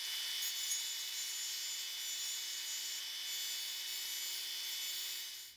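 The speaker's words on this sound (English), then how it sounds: "I'm going to sand the shape using this sander again." Brass bass guitar nut being sanded on a sander, a steady high-pitched abrasive hiss with a constant motor hum that runs evenly throughout and cuts off at the end.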